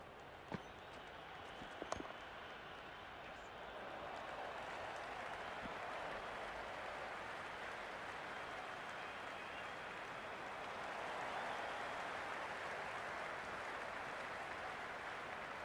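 Crowd applause in a cricket video game, a broad sustained wash of clapping and cheering that swells slightly midway, preceded by a couple of brief knocks at the start.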